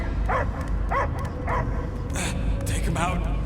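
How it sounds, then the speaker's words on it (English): Dog barks in a Guardians of the Galaxy video game scene: a series of short, sharp yips and bow-wows spaced about half a second apart over a steady background rumble, with no talk. "I hear only barking."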